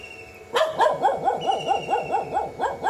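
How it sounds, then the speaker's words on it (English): Dogs in a Sri Lankan village bark in a rapid, regular string of close, loud yips and bow-wows that continue without a break. "There are a lot of dogs here, and that's why, I mean, they make noise."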